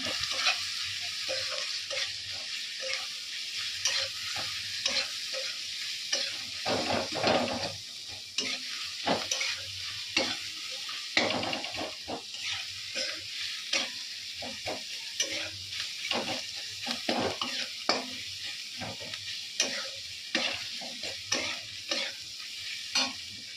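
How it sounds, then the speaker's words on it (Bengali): Spices sautéed with fried potatoes in a pan give a steady close sizzle, broken by frequent scraping and clattering strokes of a stirring spoon, with no voices. "এখানে মশলাগুলো আমি দিয়ে দিয়েছি কষানো হচ্ছে"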